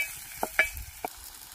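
A spoon stirs ginger, garlic and coriander paste into frying onions with a few quick scraping clacks over a soft sizzle, near and alone.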